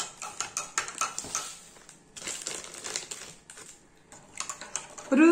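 A spoon stirs a spoonful of salt into water in a container for a homemade oxygen experiment, giving close, gritty scraping and quick clinking strokes in rapid bursts, with two brief pauses and no talking.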